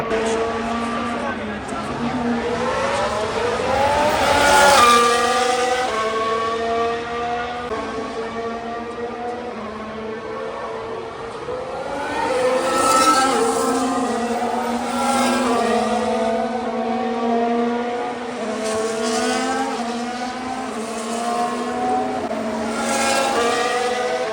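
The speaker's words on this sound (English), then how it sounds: "I watched the cars race by" Race cars at the Miami Grand Prix scream past one after another, their loud, high engine notes rising and falling in repeated sweeping passes over a steady trackside roar, with crowd noise underneath.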